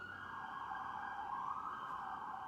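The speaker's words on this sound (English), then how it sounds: "There's that stupid siren again." A siren wails steadily in the distance, a sustained rising and falling tone over faint background hum.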